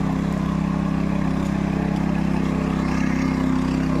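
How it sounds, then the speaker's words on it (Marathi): A tractor engine runs while it is driven through a flooded rice paddy in Konkan, giving a constant, close, low droning rumble with no changes in pitch. "तर मंडळी असं ट्रॅक्टर फिरवतात."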